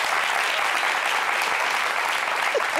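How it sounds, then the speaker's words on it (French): A studio audience at a French-language talk show claps steadily and densely for the Baoulé, a continuous even wash of applause with no voices. "Applaudissez pour les Baoulé!"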